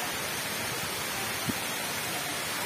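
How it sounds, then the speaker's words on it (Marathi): A steady, dense wash of rushing water from Nhavankond waterfall near Devgad fills the whole clip, broadband and constant, with one brief low thump near the middle. "पाऊस नाही तरी पण या वॉटरफॉलला पाणी भरपूर आहे."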